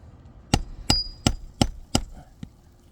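Five sharp knocks in an even rhythm, then a softer sixth, close and alone, as a nail is worked out from under lifted roof shingles.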